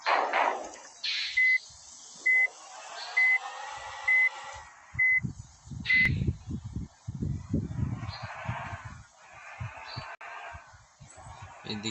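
A bus reverses after a wrong turn, its reversing alarm sounding a steady series of about six evenly spaced beeps over engine rumble, then the beeping stops and the engine keeps droning.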